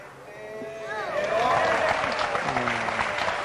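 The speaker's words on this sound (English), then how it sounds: "Why are people applauding?" Audience at a professional pool match between Dani Sánchez and Semih Sayginer breaks into applause, a swelling wash of clapping that grows louder and holds steady, with a commentator's voice audible underneath.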